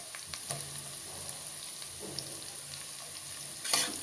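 Chopped onions dropped into hot oil with garlic and ginger for a winter vegetable bhaji, giving a soft steady sizzle with a few light stirring clicks and a brief louder burst near the end.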